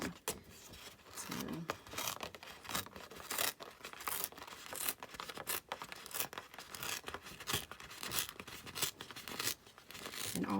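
Paper is torn by hand in a card-making demo, a continuous run of close, crisp ripping and rustling with repeated bursts over about ten seconds, accompanied by someone talking throughout.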